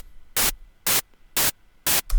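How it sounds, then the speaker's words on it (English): White noise from the Ableton Operator synthesizer, used for building hi-hats, maracas and cymbals, plays as four loud, evenly spaced bursts of flat full-range hiss with silence between them. A fifth burst starts at the end. "It's just white noise."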